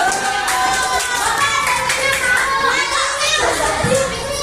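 A classroom of children clapping together, with a steady wash of applause mixed with children's chatter and voices throughout, fairly loud and close.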